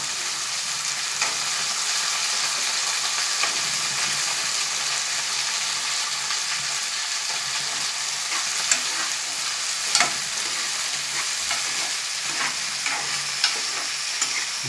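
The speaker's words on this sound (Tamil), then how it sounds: "சேர்த்து ஒரு சில நிமிடங்கள் அதை நல்லா கிளறி விட்டுறோம்" Atthalakkai (bitter gourd) fries with salt in a pan, a steady broad sizzle running throughout with occasional soft scrapes and clicks of stirring, close and fairly quiet, no talking.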